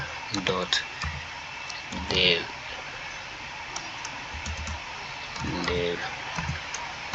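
A URL typed on a computer keyboard in quick clusters of close, crisp key clicks, pausing between bursts, with a person talking quietly over a steady background hum.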